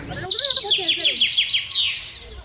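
Rescued birds freed from their cages chirp and tweet in quick, rising and falling runs of high notes. The calls are loud, close and overlapping, and they tail off near the end.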